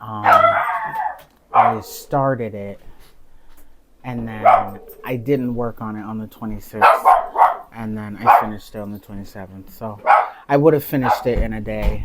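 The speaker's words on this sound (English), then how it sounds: "excuse my dog barking there" A household dog barks in the background, a few short barks mixed under someone talking steadily throughout.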